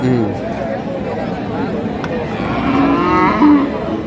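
Cattle low with drawn-out moos, one near the start and others toward the end, over a busy crowd murmur and nearby talk at Khochabari cattle market in Thakurgaon.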